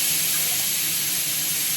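A little water is poured into a pot while making urad dal porridge in a home kitchen, a close, steady hissing rush with no talk.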